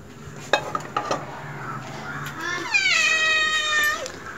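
A domestic cat meows once in a rising, drawn-out cry in a kitchen, after a few sharp clanks of cookware nearby.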